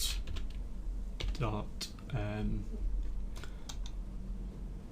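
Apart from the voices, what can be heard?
typing on a computer keyboard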